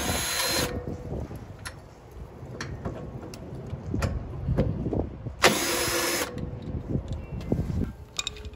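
A power tool on a 3rd gen Toyota Tacoma spins out 10mm bolts during a headlight install, giving two loud, high whirring bursts at the start and middle, with softer clicks and clanks between them.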